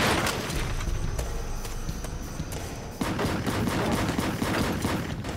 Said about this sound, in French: Il y eut de nombreux coups de feu dans l'air.